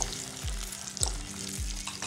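Corn kernels sautéing in hot butter in a pan, a soft steady sizzle with three low thuds of a spoon stirring at regular intervals, close and quiet, no voices.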